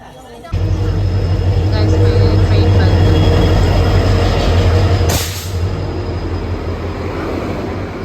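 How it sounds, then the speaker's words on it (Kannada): A train at Majestic railway station in Bangalore fills the platform with a loud, steady low rumble and drone, broken near the middle by a sharp burst of hiss before the noise settles slightly lower. "ನಾವು ಮೆಜೆಸ್ಟಿಕ್ ರೈಲ್ವೆ ಸ್ಟೇಷನ್ ಬಂದು ರೀಚ್ ಆಗಿದ್ದೀವಿ."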